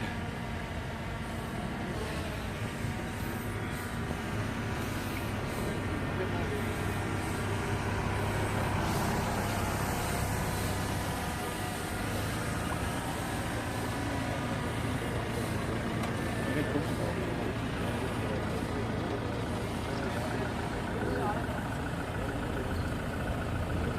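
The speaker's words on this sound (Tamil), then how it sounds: "வண்டி வருது ஜீப் வருது" Jeep and other vehicles arriving at an outdoor Independence Day celebration in Thoothukudi district, engines rumbling and idling steadily in a dense, continuous mix of traffic noise with a crowd murmuring faintly beneath.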